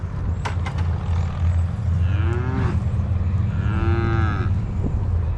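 Cows on a farm moo during a hot evening check, with two long, fairly close lowing calls rising out of a steady background hum.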